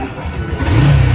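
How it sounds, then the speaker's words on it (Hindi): A Honda Hornet motorcycle engine starts and revs up, rising from a low rumble to a louder, steady mid-pitched roar close by. "तो ये देखो बाइक स्टार्ट हो गया है।"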